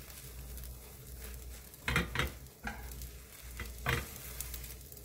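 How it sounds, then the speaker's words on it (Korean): Beaten egg sizzles softly in a pan over low heat, a steady quiet frying hiss broken by a few brief scraping stir sounds. "계란을 부어주세요. 약불에 세웁니다."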